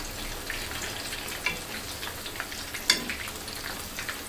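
Lachha semai dough fries in oil with a steady, close sizzle, broken by occasional sharp pops and light clinks.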